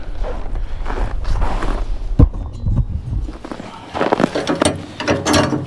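Casters being raised on a Kubota BX2380 snow blower attachment, with close mechanical ratcheting and clicking of metal parts mixed with a few thumps and shuffling steps, no speech.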